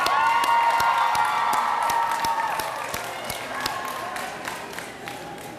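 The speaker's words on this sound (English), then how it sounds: "So I ask the graduates to stand and applaud their family members who are here." Graduates at a 2019 graduation ceremony stand and applaud their family members, a steady wash of crowd clapping with scattered sharp claps and some cheering, fading slightly toward the end.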